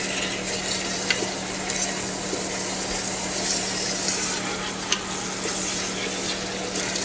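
Chili with spices being stirred in a Ninja Foodi, a continuous close sizzle and bubbling with soft scraping and a few light knocks, steady and without speech.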